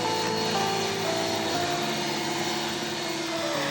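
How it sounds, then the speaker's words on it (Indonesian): Electric hand mixer at top speed beating cake batter, a steady loud motor whine with a shifting tone that runs without a break, close by, with no talk over it. "ini aku naikkan lagi ke speed yang paling tinggi dan dimixer hingga mengental atau sampai mengembang"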